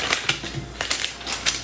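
Magazine pages scrunched up by hand for a paper tree craft, close crinkling crackles coming in several short bursts over a rustling papery bed, with no talking.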